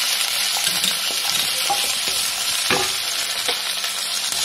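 Tomatoes frying in oil in a pan, a steady close sizzle with occasional scraping stirs and light taps, no talking.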